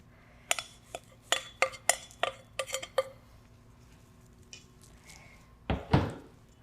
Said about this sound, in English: we're gonna add in our dry ingredients to our wet. I'll just mix those up